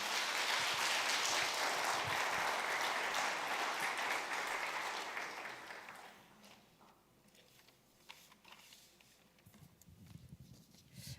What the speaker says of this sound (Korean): 우리 한번 힘차게 격려의 박수로 우리 임지선 자매님 맞이하겠습니다.